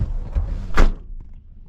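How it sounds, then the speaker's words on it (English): A door on a 33-year-old Holden Ute shuts with a single solid thunk, close and loud, followed by faint rattles as it settles. "I've got to close the door."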